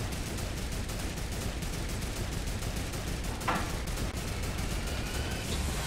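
Gunfire in the video game Fortnite: a rapid, evenly spaced run of shots rattling on continuously over a dense background, with one sharper crack standing out midway.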